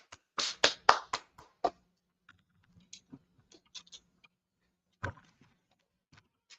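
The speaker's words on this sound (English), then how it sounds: "Clap it up for the class." A small class claps briefly: a quick burst of a few sharp, close hand claps in the first two seconds, then sparse isolated taps and a lone loud clap amid near silence.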